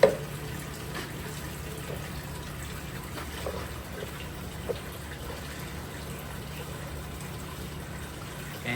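Frozen fish food is dumped into aquarium water, a soft steady watery gush and trickle that runs faintly and evenly throughout, with no talking.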